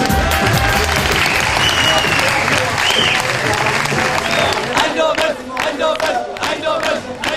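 An audience at a university robotics competition, the Coupe de France de Robotique, applauds and cheers loudly in a dense sustained roar, with claps sharpening toward the end and voices mixed in.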